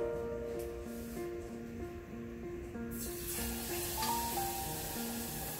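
Food frying in hot oil gives a steady, broad sizzling hiss that swells midway, layered under a repeating background music tune.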